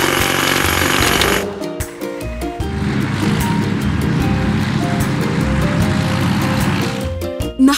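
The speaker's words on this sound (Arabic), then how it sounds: "مطرقة هيدروليكية." A hydraulic jackhammer on a toy-style tractor excavator breaking big rocks, a loud, continuous rapid hammering with a steady mechanical drone, briefly pausing and then resuming, close throughout.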